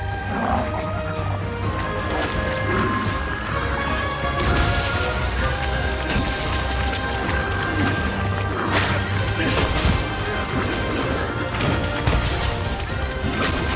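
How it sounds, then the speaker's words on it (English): Explosive impact from a Switch Axe dive attack in Monster Hunter Rise, a loud burst among dense game music, crashes and battle effects during a Tetranadon hunt. "that explosion there that did 84 damage, that was the hit from the dive"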